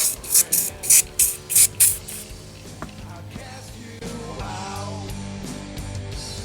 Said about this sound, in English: I'm going to use some Sprayway all-purpose cleaner.